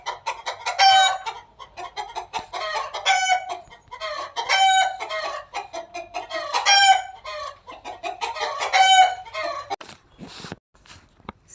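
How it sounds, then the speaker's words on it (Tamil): Chickens cluck steadily while a rooster crows repeatedly, about five crows in a regular rhythm, loud and close, with the hens' clucking running between them and trailing off at the end. "கோழியில் ஒரே சவுண்டு"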